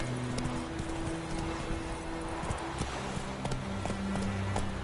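Roach, the horse in The Witcher 3: Wild Hunt, gallops with rapid, rhythmic hoof clip-clops that sit close and loud above the game's ambient sound.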